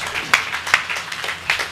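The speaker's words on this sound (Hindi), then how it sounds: "तालियां बजाइए।" Audience applause at a Hindi poetry gathering, a short burst of scattered hand claps with a few sharper individual claps standing out.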